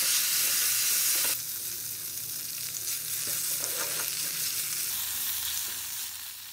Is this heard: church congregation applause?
no